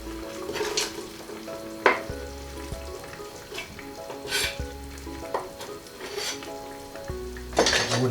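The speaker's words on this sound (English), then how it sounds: "Wooden spoon, give that a good stir." Onion stir-fried in oil and curry paste with a wooden spoon for a butternut squash and chickpea curry, giving steady close sizzling and frying with repeated scraping and clatters of the spoon against the pan.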